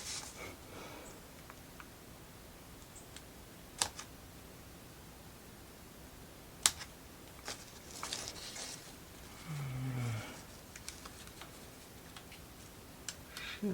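Small scissors make a few sparse, crisp snips while cutting parts for a Firefly Forest book nook build, quiet and close in a calm room, with occasional soft handling noises between cuts.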